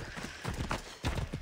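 Horse hooves clip-clop in the video game Assassin's Creed Odyssey, a quick run of close, distinct hoof strikes with a soft whinny-like tone, heard without talk.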